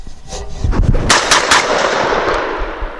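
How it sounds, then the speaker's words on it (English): A 12-gauge SDS Lynx 12 shotgun fires a Rio slug outdoors on a range, giving loud, sharp reports in quick succession with a brief echoing tail, and no voices are heard. "Going to redo the Rio slug with GB doing the shooting"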